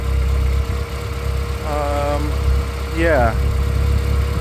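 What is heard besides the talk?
Renault Sport Twingo 133 engine idling with a slight misfire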